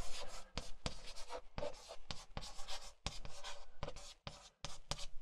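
A marker squeaks and scrapes across a board in long, loud strokes separated by short pauses, close and unaccompanied by any voice.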